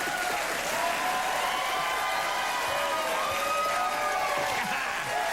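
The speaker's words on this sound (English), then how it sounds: "The crowd is going nuts for the Michael Jackson joke" A late-night TV studio audience breaks into sustained, steady applause mixed with cheers and whistles, a full room clapping together without a pause.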